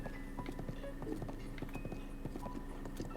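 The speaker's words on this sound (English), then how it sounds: "Haven't done too much horse riding yet for today" Horse hooves clip-clop in a steady, busy rhythm while riding in Zelda: Breath of the Wild, fairly loud and continuous with no talking over them.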